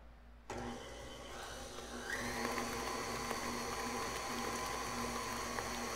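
An electric mixer switches on and beats banana bread batter with banana puree, whirring steadily and then speeding up to a higher, louder whine, heard close with no talk.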